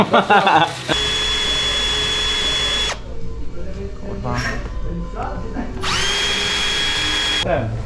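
A power drill runs at high speed in two long loud bursts with a steady whine, separated by a quieter stretch of clatter and handling noise, with voices talking around it.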